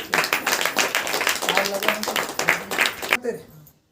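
A church congregation claps in praise during a Saturday prayer meeting, with quick, uneven hand claps and voices mixed in before the sound cuts off abruptly near the end.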